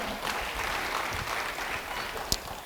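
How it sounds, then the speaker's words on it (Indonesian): Church congregation applauding during a sermon, a steady wash of clapping at moderate level with one sharper clap standing out near the end. "Beri tepuk tangan bagi dia."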